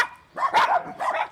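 A dog at a rescue home gives three quick, sharp barks in a close, moderately loud burst, with short pauses between them and no other sounds around.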